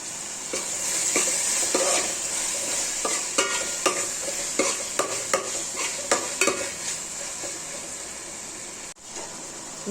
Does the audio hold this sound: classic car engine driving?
no